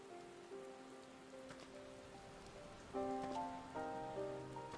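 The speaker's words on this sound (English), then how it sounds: "Yeah, just chilling in the rain." Steady rain patters in Final Fantasy XIV, a soft continuous hiss under sustained musical tones from the game's score, with no voices.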